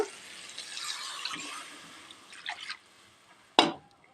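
Water is poured into a pan of okra and potato with tomato paste, a soft close trickle and splash that ends in a sharper splash near the end.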